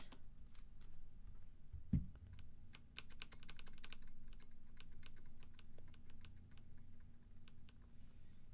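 Typing on a custom mechanical keyboard whose keycaps sit too close to the edge and scrape the case, a quiet, close run of irregular clacky keystrokes with one louder thump early on.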